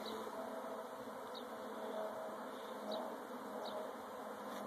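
A honeybee swarm clustered on a branch in a Sacramento yard hums in a steady, moderate drone, with occasional individual bees buzzing nearer and no voices.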